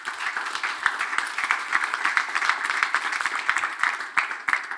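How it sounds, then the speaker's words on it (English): An audience at a European workshop round table applauds the panel, with brisk, continuous clapping from a moderately sized crowd, close and fairly loud throughout. "So maybe a round of applause for them."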